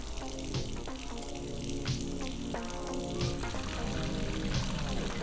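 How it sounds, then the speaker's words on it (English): Running water pours steadily from a bathtub faucet in a video game, a continuous close splashing rush under faint background tones, with no talk. "I should probably use the faucet."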